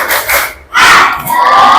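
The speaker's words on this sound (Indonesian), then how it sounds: "boleh dong tepuk semangat" A fifth-grade class of schoolchildren performs a loud rhythmic clapping chant with shouted voices, a short burst, a brief dip, then a second surge of clapping and yelling close by.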